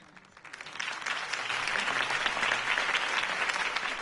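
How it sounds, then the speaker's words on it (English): A crowd in the video game Batman: The Telltale Series breaks into applause that swells quickly and holds steady, a dense wash of clapping with no voices rising above it. "could have heard that applause"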